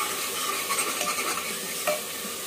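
Spice mix stirred in a frying pan with a little water, a steady soft sizzle with faint scraping strokes of the spoon running continuously and close, no voices over it.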